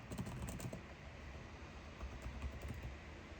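Computer keyboard typing, a steady stream of quiet, fast key clicks close by, with no talk.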